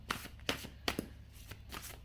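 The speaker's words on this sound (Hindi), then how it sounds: "एक कार्ड मैं और निकालूंगी" Tarot cards being shuffled and drawn by hand, a quiet close series of soft riffling flicks that come in several separate bursts with short pauses between them.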